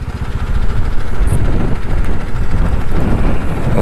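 Heavy four-wheel-drive truck engine labouring up a rough, dusty mountain road in lower Mustang, Nepal, a steady loud low rumble throughout with wind buffeting, no talk.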